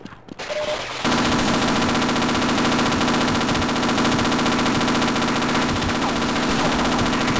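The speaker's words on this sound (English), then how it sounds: "One of Half-Life's famous turret sections here." Automated turret machine-gun fire in Half-Life erupts after a brief quiet start, a loud, continuous rapid stream of shots that fills the rest of the clip without pause.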